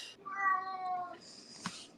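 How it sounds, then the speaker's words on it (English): A domestic cat gives a short, fairly faint meow with a rising then falling pitch, followed by a brief higher squeak and a small knock, all in a quiet room. "That was a cat"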